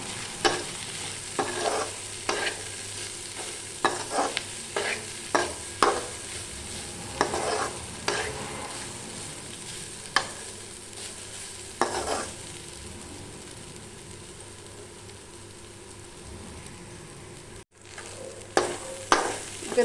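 Grated coconut roasts in a pan while being stirred, with regular scraping strokes over a low sizzle that fades briefly before resuming; near and clear, no voices.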